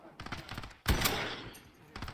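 Gunfire in the Warzone battle royale video game: a sharp, loud burst of automatic shots near the middle, with quieter scattered shots before and after, under no clear speech.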